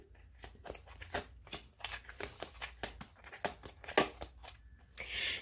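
Tarot cards are shuffled close up, a run of quick papery riffles and slaps in an uneven rhythm, with a soft rustle at the end.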